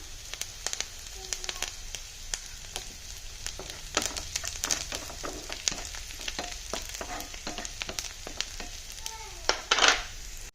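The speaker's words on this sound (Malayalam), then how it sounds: "കുറച്ച് കറിവേപ്പില ഇട്ട് കൊടുക്കാം" Curry leaves drop into hot oil and fry with a crackling sizzle in a pan, while a spoon scrapes and knocks in uneven strokes, close up, with a louder burst near the end and no talking.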